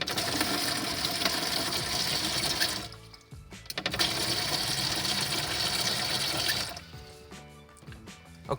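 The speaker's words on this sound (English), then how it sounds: "allowing water to start flowing into my bucket" Water runs from a Delta Touch2O kitchen faucet into a bucket, a steady rushing flow that cuts out briefly twice and then resumes.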